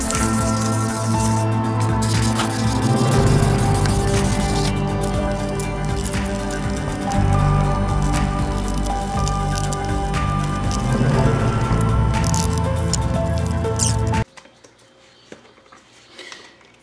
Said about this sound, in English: So now I'm gonna hit this car with a 1000 grit for approximately 5 minutes, adding water when necessary.